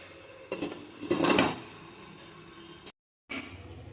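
Lid on a pot of spicy pabda fish curry handled on a home stove, a few soft metallic clinks and a scrape, then a brief cut before quieter clatter.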